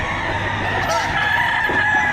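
Chickens clucking with a rooster crowing among them, loud and close, at a busy livestock auction market in Padre Garcia, Batangas, Philippines.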